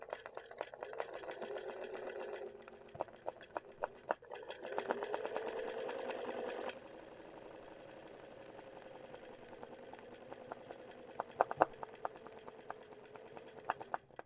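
A sewing machine runs free-motion embroidery stitching, its rapid motor hum and needle patter going in bursts, louder for the first stretch and then softer and steadier, with occasional clicks and knocks nearby.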